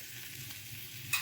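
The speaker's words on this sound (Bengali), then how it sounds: "এবার এর মধ্যে আমি ভাজা টোফুগুলোকে দিয়ে দিয়েছি।" Fried tofu turned into a chilli and tomato sauce paste in a pan, a faint low sizzle with soft stirring and one short scrape at the end.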